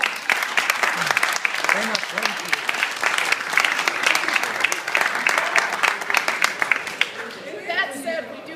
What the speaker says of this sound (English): How about an applause for these then?